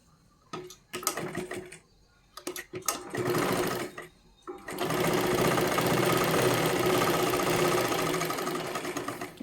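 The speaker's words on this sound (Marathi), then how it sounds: "आता इथे एक शिलाई मारून घ्या" A sewing machine stitches a strip on a katori blouse, running in short bursts at first and then in one long, steady, loud whirring run.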